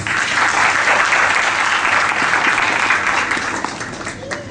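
A parent orientation audience gives a big round of applause for the role plays, dense and loud from the start and thinning slightly toward the end.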